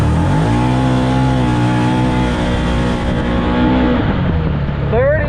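A 2022 Can-Am side-by-side off-roader in high gear and two-wheel drive accelerates flat out over a short speed-test run, the engine droning loud and rising steadily in pitch, with a voice heard briefly over it.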